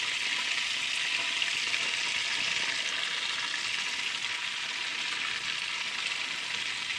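Perch eggs frying in melted butter: a steady, close hiss and crackle of sizzling that holds at an even level throughout, with no talking.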